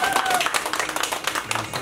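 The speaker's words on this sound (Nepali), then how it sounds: "ताली है सबले ताली खै" An audience claps together in a short burst of applause at a live music show, the clapping steady and dense under a loud, lively mix.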